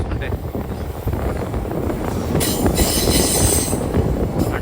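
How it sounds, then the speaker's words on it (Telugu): The Ratnachal Superfast Express rumbles across the Godavari bridge near Rajahmundry, heard from inside a general coach as a loud, continuous clatter of wheels with wind buffeting and a voice talking over it. "మన ట్రైన్ కానీ చూసుకుంటే గోదావరి బ్రిడ్జ్ పైకి అయితే ఎంటర్ అయిపోయింది"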